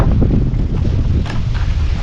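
Strong morning wind buffets the microphone outdoors on a farm in Thailand, a loud continuous low roar with gusty swells throughout and no speech.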